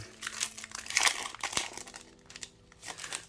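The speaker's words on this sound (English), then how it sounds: "Get rid of my plastic." Plastic wrapping crinkles and crackles as it is pulled off sticker books, close and busy with irregular rustling bursts throughout.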